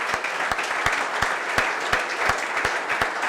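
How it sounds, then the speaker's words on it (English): An audience at a university football press conference claps for the new head coach, a fairly even spatter with a few sharp, distinct claps standing out at regular intervals. "So I think that deserves a round of applause,"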